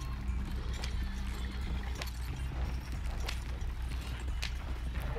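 Horse hooves clip-clopping on a road in a Wild West video game, a steady rhythmic trot of sharp clops over a low rumbling bed, moderately close.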